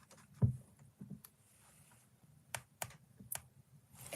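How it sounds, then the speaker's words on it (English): Sparse, quiet keystrokes on a computer keyboard, a handful of separate clicks and taps spread unevenly with low thumps between, alone in a quiet room. "Let me try and type Emily."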